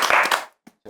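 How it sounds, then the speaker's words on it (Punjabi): A studio audience at a tea-time quiz show bursts into a short round of clapping that fades within half a second before a voice speaks. "ਉਸਤਾਦ ਜੀ ਵਾਸਤੇ ਤਾੜੀਆਂ ਲਾ ਦਿਓ ਯਾਰ ਇੱਕ ਵਾਰੀ"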